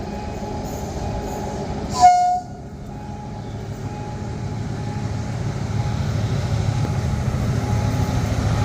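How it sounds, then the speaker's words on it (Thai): Empty flatcar freight train 818 hauled by an Alsthom 4404 locomotive near Makkasan station on a curve, rumbling steadily and growing louder as it approaches, with a short horn toot early on and no speech. "รถไฟ 818 นะครับ รถสินค้าแคร่เปล่า ทำขบวนโดยอาร์สตอม4404 มาแล้วครับ"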